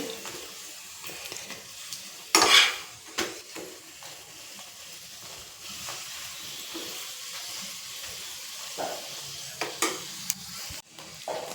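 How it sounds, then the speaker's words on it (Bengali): Steady sizzling of a paratha (jackfruit paratha) frying in a pan, with a few sharp scraping and clinking sounds of a utensil against it. "এইভাবে সবগুলো পরোটা আমি ভেজে নেব"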